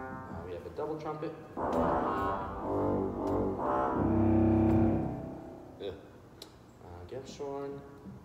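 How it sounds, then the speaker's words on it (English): Pipe organ with a double trumpet stop in the pedal division, in the sanctuary of First United Methodist Church in Brevard, NC. Sustained reedy chords swell to a loud, full peak and then fade, with quieter notes following. "Double trumpet."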